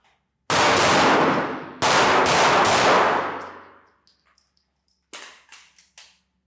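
Handgun shots at an outdoor shooting range during a close-engagement drill, two loud cracks with long ringing decay followed by a quicker trailing string of fainter shots and metallic clangs.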